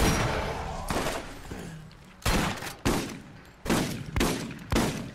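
Gunfire in the Borderlands video game, a series of loud sharp blasts in irregular bursts, some single and some doubled, with quieter game noise between the shots.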